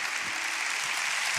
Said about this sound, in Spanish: Dale un aplauso a la gente que está en casa.